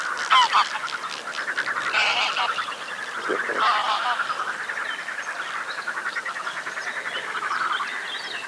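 A flock of geese on a lake honks and cackles nearby in a dense, continuous chorus of overlapping calls, with no pauses.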